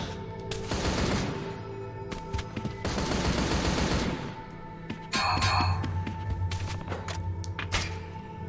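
Vision cannon firing in the video game Like a Dragon: Ishin!, loud bursts of gunfire-like blasts and thuds over layered battle noise, with a heavier sustained roar near the end.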